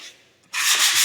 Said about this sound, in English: any kind of stain job, you got to lightly sand it. You gotta blend them scratches out